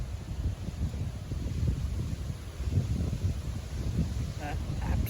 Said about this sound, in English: It's a bit dark and windy today